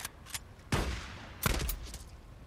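Shotgun blasts from the Days Gone video game: two loud, close, booming shots roughly three-quarters of a second apart, each with a short trailing decay, over faint background noise.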